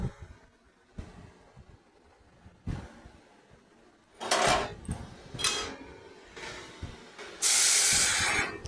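Ghee with burnt sugar and ground black pepper spits and hisses loudly as vegetable curry is poured into the bowl, with several sizzling bursts that swell into a long, intense hiss toward the end.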